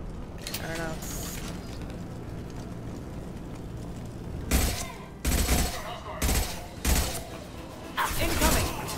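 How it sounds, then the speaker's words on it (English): Bursts of gunfire from Blue Suns mercenaries and Vorcha in a Mass Effect 2 firefight, loud clustered volleys arriving in the second half after a quieter stretch of game ambience. "Blue Suns and Vorcha shooting anything that moves."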